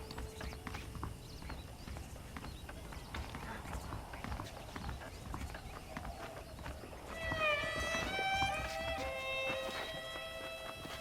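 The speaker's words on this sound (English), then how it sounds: "The horses are saddled up over here." Saddled horses in the Western video game Red Dead Redemption clip-clop steadily at a walk, hooves close and rhythmic under game music, with a brief whinny-like tone near the end.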